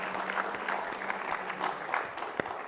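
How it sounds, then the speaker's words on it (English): Brief, even applause from a festival crowd thanking the media services team, a continuous patter of clapping at moderate distance. "we're also gonna do another round of applause for Media Services for putting all this on"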